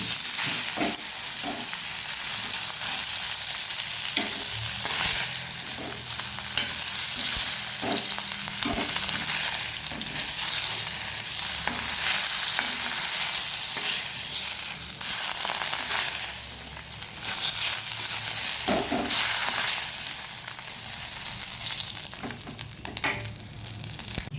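Fish fillets, then green chilies, frying in hot oil in a pan, giving a steady, close sizzle with bursts of crackle and occasional stirring clatter throughout, with no voices.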